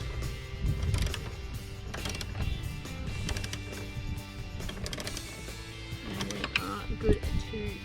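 A 10mm socket ratchet tightens the battery clamp on a 2020 79 Series Land Cruiser, making close, quick bursts of clicking between pauses while a person talks over it.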